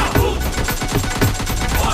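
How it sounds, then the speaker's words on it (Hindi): Rapid automatic gunfire in an online shooter video game, a dense string of loud close bursts that continues without a break and drowns out any other sound. "हम इधर गोली चला रहे हैं"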